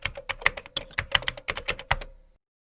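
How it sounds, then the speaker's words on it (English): Quick bursts of keystrokes on a computer keyboard, about a dozen crisp close clicks in an uneven typing rhythm before it stops, with nothing else heard. "typing the function in the formula bar"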